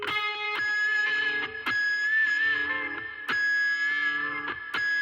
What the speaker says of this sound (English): your thumb is going to immediately follow the strike and kind of mute the string, giving it a little screaming effect